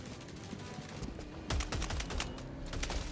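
Bursts of gunfire from the Adjudicator rifle in Helldivers 2, a run of sharp cracks on single-shot fire that grows louder and denser midway, with game effects underneath.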